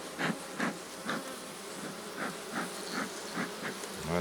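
Bees buzz softly around an opened beehive holding a frame of drone comb, a steady quiet drone with small swells of nearby wingbeats.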